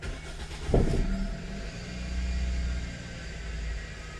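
A car engine starts with a brief cranking burst, then settles into a low, steady idle rumble that continues at moderate level, with no speech.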